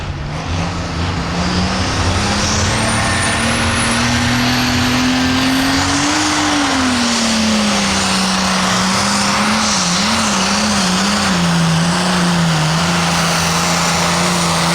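A hot farm tractor at an NTPA tractor pull at the Rush County Fair in Rushville, Indiana, its engine roaring loud and continuous, pitch rising and wavering through a full-throttle run, with no talk over it.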